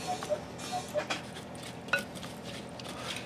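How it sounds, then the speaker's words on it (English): Slotted spoon stirring potatoes in an oil spice mixture, with scattered scrapes and clinks against the dish at an uneven pace, close and fairly quiet. "I'm just going to stir my potatoes around good in there"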